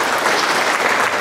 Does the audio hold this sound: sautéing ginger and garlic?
no